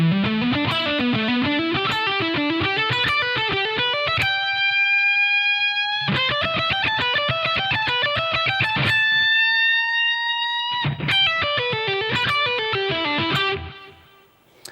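Distorted electric guitar plays a lick from a solo: fast repeated note runs broken by two long sustained notes, loud and clear with no talking, fading out at the end.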